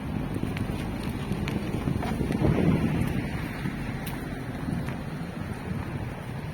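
Gusty wind buffets the microphone outdoors on a warm, windy autumn day in Poltava, with a steady broadband rush that swells in the middle and holds without any talk.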